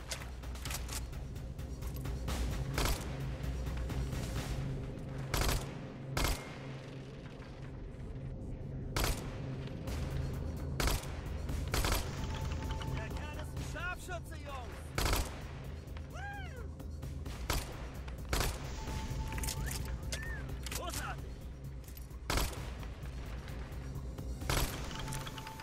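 Gunfire in the video game Hitman Absolution: repeated sharp shots and bursts spread through the stretch, with steady game background sound between them and some voices.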